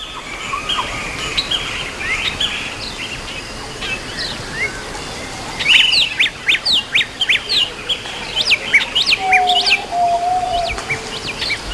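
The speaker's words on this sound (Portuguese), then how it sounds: "canto de trêmula satisfação da fêmea recém-coberta" A recently mated female bird sings in the Atlantic Forest, giving a run of thin, trembling chirps and tweets at moderate distance. A steady forest hiss sits underneath, and a brief low whistle sounds near the end.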